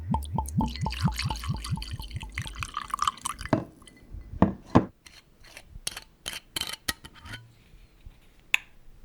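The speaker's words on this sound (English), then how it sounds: "the clinking of her Daily Bell scotch and ice cubes" Ice cubes clink in a glass of scotch, first as a fast run of rhythmic ringing taps, then as scattered sharp, close clicks and knocks with quiet gaps between them.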